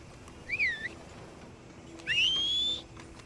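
Characters in Red Dead Redemption 2 whistling, two separate clear tonal whistles, the first a short wavering call and the second a longer rising note, with quiet game ambience between.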